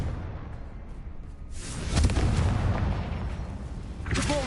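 The Confringo blasting spell from Hogwarts Legacy goes off in a loud, close whooshing burst that swells into a rumbling explosion and a sustained roar, with a second sharp flare near the end.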